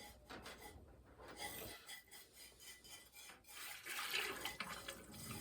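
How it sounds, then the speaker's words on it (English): Water rinsed through the combustion chamber of a neglected Lochinvar Knight boiler, a steady close splashing and trickling wash with faint scraping, continuous for several seconds and no voices. "we're going to rinse the combustion chamber with water."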